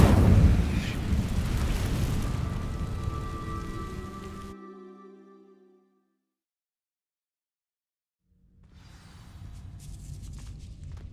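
The Incendio fire spell sets dry vines burning in Hogwarts Legacy: a loud crackling, roaring rush of flame that fades into silence, then a softer crackle rises again near the end.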